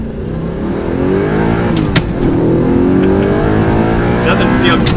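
A stock Toyota Supra sports car accelerates hard, its loud engine note climbing steadily through the gears with a brief shift break, close and sustained over about five seconds.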